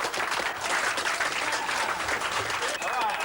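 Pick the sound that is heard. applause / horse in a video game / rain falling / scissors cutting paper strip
applause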